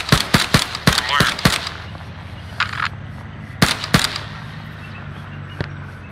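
Machine gun fire in a war video game: a rapid burst of loud, close cracks opening the sequence, then a brief rattle, two more heavy shots and a faint trailing pop.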